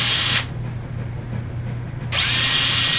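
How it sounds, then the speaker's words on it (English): A power drill whines loudly up close drilling screw holes for a model plane motor mount, stops for about two seconds, then starts again at full speed. "I put the motor on here and marked the holes for the screws for the motor, and I'm going to drill those now"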